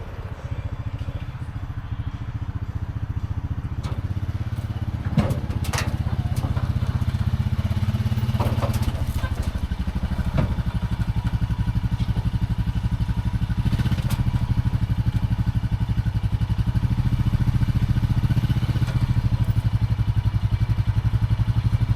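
A 2025 Honda Pioneer 520 utility vehicle pulls away from a dealer lot, its mid-pitched engine droning steadily and loud throughout with some clatter and bumps, no talking.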